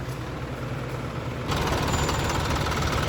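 An Isuzu Elf NPR close-van truck with a 4HL1 diesel engine rated at 118 PS runs steadily up close, a dense rumbling drone that grows noticeably louder and brighter about halfway through, with no talking.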